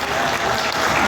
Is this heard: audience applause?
yes